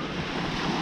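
Ocean surf washes onto the beach at Escambia Bay, Florida, a dense, loud, continuous roar mixed with wind buffeting the microphone.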